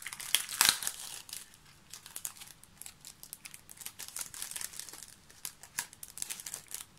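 Badges being drawn out of crinkly plastic packaging, giving a close run of crackling crinkles and rustles with a louder crumple burst near the start.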